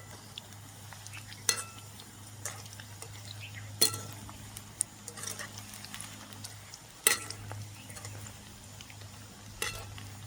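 Spicy bondas fry in oil in a village-style kitchen, giving a soft, steady sizzle with occasional sharp clinks and scrapes of a utensil turning them.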